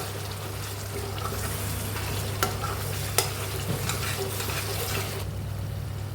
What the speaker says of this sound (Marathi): एकदा फिरवून घेऊयात आपण याला, छान असं मिक्स करूयात।